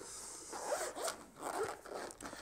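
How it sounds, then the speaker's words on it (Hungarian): The zipper of a small zippered pouch holding a portable 12 V power pack and its accessories, drawn open in a few short rasping pulls, close and crisp, with faint handling noise and no talking. "Tehát egy ilyen cipzáros kis pak, ezt így kinyitjuk"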